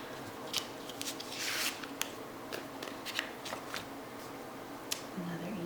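A yellow planner sticker is peeled from its sheet and pressed onto a Hobonichi Cousin planner page, producing close, soft paper rustles, crinkles and small ticks, with a voice talking briefly.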